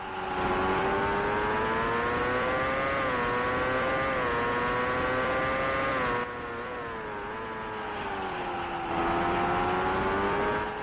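Simulated IndyCar engine from Indycar Racing II at the 1989 Cleveland Grand Prix, a steady high-pitched racing drone rising and falling with throttle through the corners, loud and continuous with no talk.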